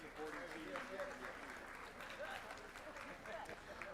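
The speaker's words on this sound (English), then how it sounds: "Let's give Devin Hancock another round of applause." Audience applause at a school board meeting, steady and moderately distant, carrying on for the whole four seconds with a faint murmur of voices underneath.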